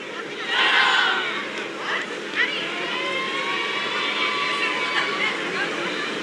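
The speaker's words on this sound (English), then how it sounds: "you're starting to get the noise of the crowd" A crowd at an outdoor American football game roars and cheers loudly, a sustained wash of shouting and whistles that swells early then holds steady in the background.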